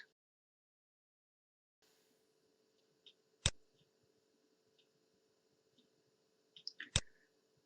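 Computer mouse clicks while working in SolidWorks CAD software: two crisp, isolated clicks a few seconds apart, close and fairly loud over a faint steady hum.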